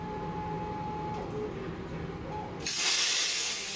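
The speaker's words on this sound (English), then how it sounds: "So this plasma cutter, it is currently running a 45 amp tip and I'm cutting 1/8 inch or 10 gauge steel." Plasma cutter fitted with a 45 amp tip slicing 1/8 inch (10 gauge) scrap steel; a low steady shop hum gives way near the end to a sudden loud, sustained close-up hiss of the cutting arc, with no talking.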